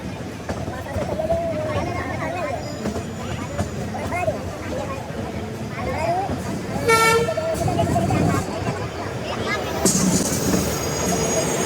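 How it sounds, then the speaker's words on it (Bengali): A train at Bandel railway station gives a couple of horn toots, with wheel squeal and rail rumble underneath, while nearby voices chatter through the crowded platform. "এই ট্রেন ধরেই আমরা যাবো বর্ধমানে"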